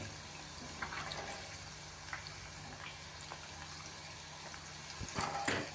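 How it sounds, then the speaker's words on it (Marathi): Potato bites deep-frying in hot oil until golden, giving a steady, fairly quiet bubbling sizzle throughout that swells slightly near the end, with no voices. "गोल्डन कलरवरती आपल्याला ते तळून घ्यायचे."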